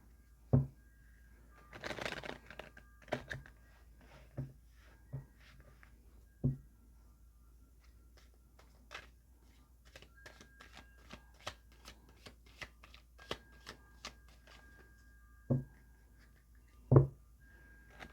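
A deck of tarot cards being shuffled by hand, with soft riffling bursts and sharp card taps spread irregularly across the clip, quiet and close with no talking.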